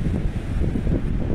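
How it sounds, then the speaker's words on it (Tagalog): Strong wind roars against the microphone in a snowstorm in Saskatoon, Saskatchewan, a loud, steady low rumble with gusty buffeting throughout and no speech. "Lakas pa ng hangin."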